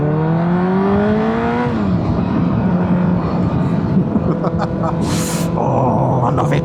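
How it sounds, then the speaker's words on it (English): A motorcycle engine revs hard as the bike rides off on a country back road, loud and close, pitch climbing through several gear changes with brief shift breaks, then a rising whine near the end. "I'll let the bike give you an outro because there's a 50 limit in a second"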